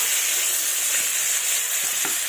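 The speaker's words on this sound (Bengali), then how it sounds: "এবার ওই তেলে আমি আলুগুলোকে ভেজে নেব।" Potatoes fry in hot oil after fish has been fried in it, giving a loud, steady, close sizzle with no pauses.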